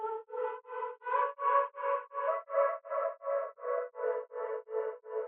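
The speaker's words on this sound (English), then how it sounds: "really ambient and also bouncy due to that tremolator effect that we got on there" A sung vocal sample with a tremolo effect applied sounds ambient yet bouncy. It is chopped into an even, rhythmic pulse of about three beats per second at moderate volume, alone.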